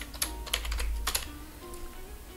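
A computer keyboard being typed on at a desk during 3D modelling work in Rhino, a short burst of a few quick clicky keystrokes, close and fairly quiet, with no voice.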